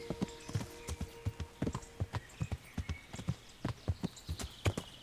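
A horse's hooves clip-clop at a steady walking pace in the medieval game Kingdom Come: Deliverance, the close, regular hoof strikes continuing throughout.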